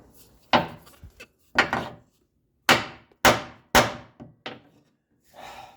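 Hammer blows driving a rivet out of a leaf spring bracket on a 1997 Ford Ranger, about eight loud, sharp metallic strikes at uneven intervals with brief ringing and quiet gaps, close to the microphone.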